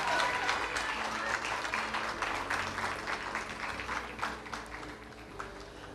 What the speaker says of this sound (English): Let's have another round of applause for the 2016 Little Miss Tullahoma and her court.